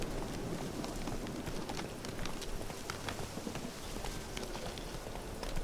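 Horse hooves clip-clop at a brisk pace while riding through a rainy cemetery in The Witcher 3: Wild Hunt, a steady rhythmic thudding under a constant wash of rain and ambient noise, with no speech.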